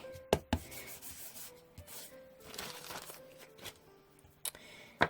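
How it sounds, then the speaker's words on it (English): An embossing buddy is rubbed over watercolor cardstock, giving soft dry brushing strokes in short bursts, punctuated by a few sharp taps or handling knocks, quiet and close, with no talking. "Now it's time to grab our watercolor cardstock, and I'm taking my embossing buddy."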